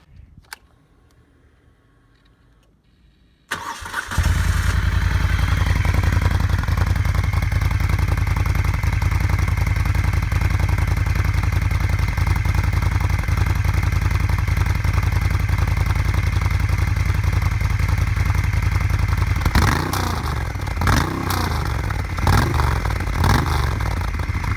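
A big-bore Moto Guzzi cafe racer fires up after a few seconds of quiet, then holds a loud, steady close-up idle with blips of revving near the end, no talking over it.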